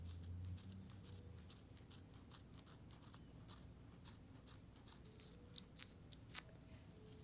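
Quiet, crisp snipping of tiny thread scissors cutting dress fabric, many quick cuts in an uneven rhythm over a soft background hum.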